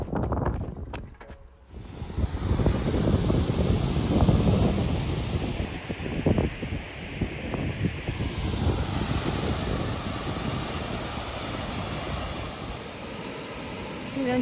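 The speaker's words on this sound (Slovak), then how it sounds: "je to dosť hluk, lebo som pri vodárni" Loud, steady rushing water at a riverside waterworks along a cycling route by the Hron river, a dense roar filling the whole stretch with a short dip near the start and wind buffeting the microphone.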